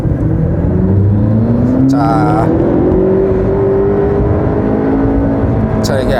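Engine of a McLaren 650S, 650 horsepower, revving in first gear inside an underpass, a loud sustained rising drone echoing off the walls, with sharp mechanical bursts near the start and the end.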